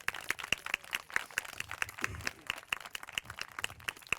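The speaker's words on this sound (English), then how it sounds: "So let's give the entire team a round of applause," Thin, scattered clapping from a small press-conference audience at a recreational van launch, quiet and sparse, with irregular hand claps spread over a few seconds and no voices on top.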